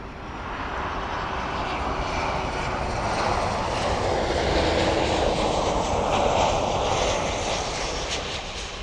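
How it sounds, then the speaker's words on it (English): An American Airlines Boeing 737 roars past at Miami Airport, a broad, loud jet-engine rush that builds gradually and holds steady before easing slightly at the end. "That was American Airlines 737 from Liberia."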